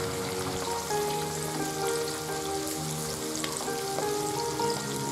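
Prawn kebabs deep-frying in oil over a medium flame give a steady, dense sizzle with light bubbling crackles, heard close and alone throughout.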